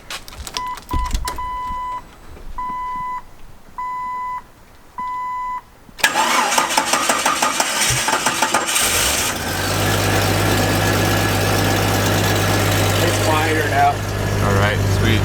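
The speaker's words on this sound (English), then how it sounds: "So in case you didn't know what a stock Cherokee sounds like, I'm just gonna start her up." A stock 1999 Jeep Cherokee XJ with little exhaust sound gives several chime beeps, then cranks and fires up and settles into a steady, moderately quiet idle while people talk nearby.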